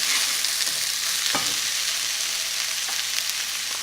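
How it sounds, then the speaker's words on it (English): Spices and onions frying in a pan for balti chicken curry, a steady hiss of sizzling broken by a couple of brief scraping stirs, with no talk. "fry our spices along with onions"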